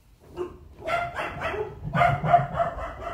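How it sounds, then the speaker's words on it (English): Dogs running around bark in several quick bursts of yips and woofs at moderate distance, the barking growing busier toward the end, with no speech. "Could you hear my dogs? Because there were dogs running around."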